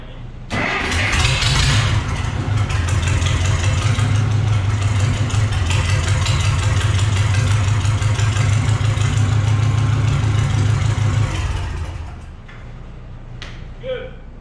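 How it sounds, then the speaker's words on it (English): A 1965 Case 430 tractor engine cranks briefly, catches and starts, then runs steadily at a loud idle with a strong low rumble for about ten seconds before shutting down, followed by a few faint clicks. "when I'm going to start or crank the engine"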